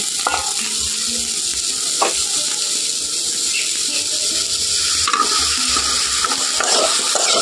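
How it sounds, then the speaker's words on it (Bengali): Neem flowers are stirred in a dry pan over low heat, giving a steady soft rustle and faint crackle with occasional scrapes and clinks of the utensil against the pan, close up and with no talking. "শুকনো কড়াইতে আমি নিম ফুলগুলো তুলে দিয়ে একটু ভালো করে ভেজে নেব।"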